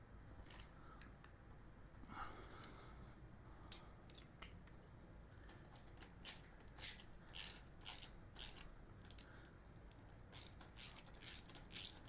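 Bolts on a 125cc dirt motorcycle's reflector being tightened with a ratchet, a string of quick close clicking bursts in uneven spurts with short pauses.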